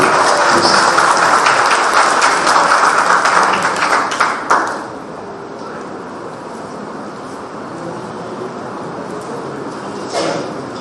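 An indoor audience at a cathedral platinum jubilee celebration claps loudly and densely for several seconds, then the applause fades into a quieter room murmur with a brief clatter later.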